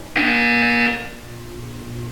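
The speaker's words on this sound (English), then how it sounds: "You will hear a buzzer. When you hear the buzzer, look down at the floor." A harsh electronic buzzer sounds in the puzzle game Portal 2, one loud steady blast lasting under a second that then stops and leaves a low hum.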